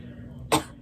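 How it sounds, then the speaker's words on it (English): A single short, sharp cough comes from a person close by in a quiet room. "Gosh, I'm already starting to cough."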